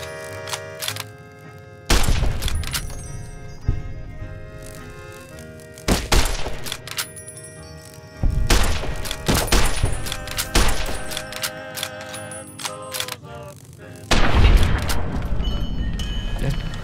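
Gunfire in Fallout: New Vegas, several loud sharp bursts of shots and booming impacts arriving in clusters every few seconds, separated by quieter stretches with music underneath.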